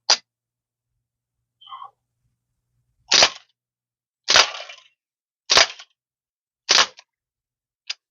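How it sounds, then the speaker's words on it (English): Crosman ST1 BB rifle firing bursts: five loud, sharp cracks at roughly one-second intervals, each a sudden snap with a short tail, plus a faint click near the start and a quieter snap at the end. "that's firing a burst round. That's firing more than one at a go."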